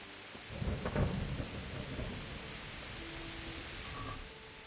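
Thunder booms from a lightning strike in the PS5 game Kingdom Come Deliverance, a deep rumble swelling near the start and rolling on over steady rain-like ambience, fairly quiet overall.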